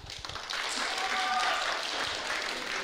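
Audience applause at a youth mental health forum theatre show, a dense, steady patter of clapping that swells after half a second and holds evenly for the rest of the moment.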